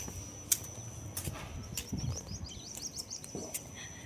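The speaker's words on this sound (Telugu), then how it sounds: "ఈ పిచ్చుకల సౌండ్ మాత్రం చాలా బాగుంటుంది" Sparrows chirp on a rooftop terrace, giving faint, scattered tweets over quiet outdoor background noise, with a few sharper clicks and knocks mixed in.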